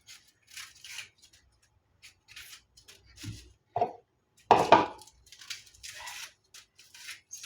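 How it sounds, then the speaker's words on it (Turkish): Intermittent knife strokes chop an onion on a board, soft scraping cuts with one louder crunch near the middle, spaced irregularly in a quiet room. "Doğrayacağım."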